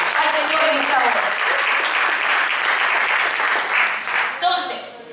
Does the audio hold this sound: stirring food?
no